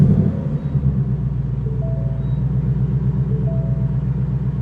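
A tuned 2019 Ford Mustang GT with a JLT cold air intake sits idling after starting, giving a steady, loud, low rumble with a faint rhythmic pulse throughout.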